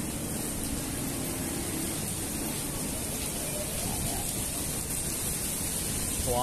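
Heavy rain on Orchard Road, a dense steady hiss of downpour, constant and loud, with no talk.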